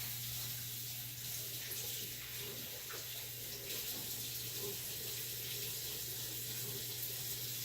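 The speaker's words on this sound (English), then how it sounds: "Gotta wash my hands." A kitchen tap runs in a steady, continuous wash of water for hand-washing, unbroken throughout with a faint low hum beneath it and no talking.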